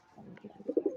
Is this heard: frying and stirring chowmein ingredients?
no